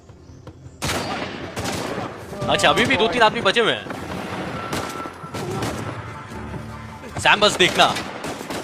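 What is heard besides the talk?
gunfire, sniper rifle shots in Uncharted 4 video game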